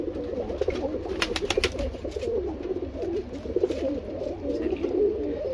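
Highflying pigeons of rare breeds cluster on a loft roof in Surat, giving a continuous murmur of soft, near cooing that rises and falls with no talk over it.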